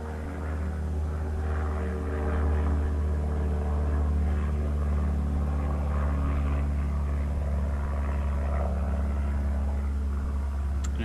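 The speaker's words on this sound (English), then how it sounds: "I got an airplane going overhead right now" Airplane flying overhead above a bushcraft camp in the woods, a steady low propeller drone that holds for the whole stretch at moderate distance, faint and even, with no talking.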